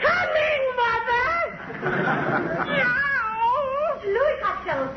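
A cat meows and wails repeatedly in a comic radio sound effect, rising and falling cries that sit loud and close, mixed with talking voices in a 1945 comedy-duo Christmas broadcast.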